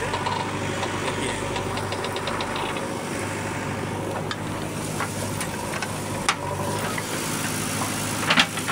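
A steady tractor engine runs with a knocking idle, loud and continuous, with faint clatter and scraping on top as a JCB loads soil into its trolley.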